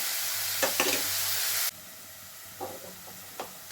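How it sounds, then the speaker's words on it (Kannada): Onions frying in a pan for a radish stir-fry dish: a steady broadband sizzle for the first second and a half, then a quieter hiss with a few stirring scrapes, close and alone with no talk. "ಈರುಳ್ಳಿ ಎಲ್ಲ ಚೆನ್ನಾಗಿ ಫ್ರೈ ಆಗಿದೆ"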